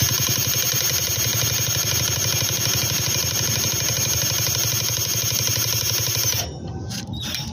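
An engine runs close and loud with its throttle opened a little, a fast steady clattering beat that holds for several seconds before cutting off sharply near the end.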